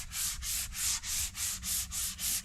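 Wet and dry paper rubs by hand over a fibreglass tank on a BSA Bantam racer body. Nine even, rhythmic rasping strokes sound up close and loud, one after another with no pauses, and nobody speaks.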